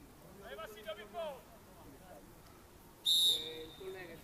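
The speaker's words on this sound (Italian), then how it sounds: "Triplice fischio del direttore di gara" A referee blows a loud, sharp whistle to end an eight-a-side football match, the blast cutting in near the end, after a commentator has been talking over faint crowd noise.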